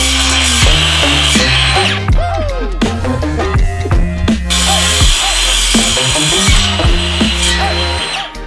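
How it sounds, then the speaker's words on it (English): A power tool cuts through an aluminium handlebar during a Cannondale Moterra e-MTB build. It is a loud, close, continuous mechanical grinding whine with rattling, ratchet-like clicks and brief interruptions, running throughout. "we leveled up the power tool game when it comes to cutting bars"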